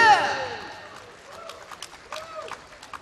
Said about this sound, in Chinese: 掌声送给他好吗？